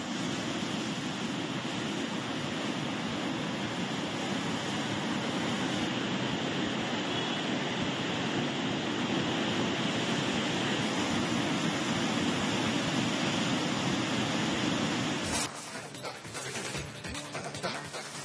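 The flooded Phalguni River, swollen by heavy rain, roars in a dense, continuous rush of water that stays loud and even for most of the clip before the texture shifts near the end.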